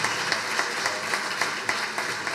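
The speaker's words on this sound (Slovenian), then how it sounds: "En aplavz tudi za našo medeno kraljico." Audience at a state holiday reception claps for the honey queen, a short burst of steady, fairly loud applause with no voices over it.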